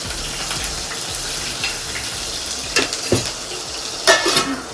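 Whole biryani spices fry in a pan for a chicken curry with a loud, continuous sizzle and hiss. Occasional sharp utensil scrapes and clinks cut through, and no one speaks.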